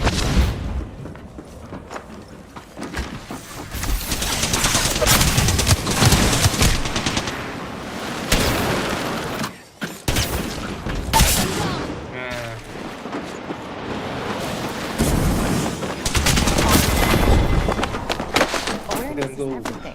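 Enemy gunfire in a sci-fi shooter video game, bursts of rapid shots and booms crackling through a dense battle mix, with someone talking over much of it.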